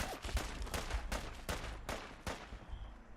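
Gunfire from a video game in which synths are freed: a rapid string of about seven loud, evenly spaced shots, with no voices.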